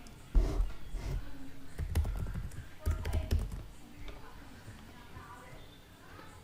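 Computer keyboard keys tapped in a few scattered bursts while installing MySQL server on Rocky Linux, close and fairly quiet, with background noise throughout and no clear talk.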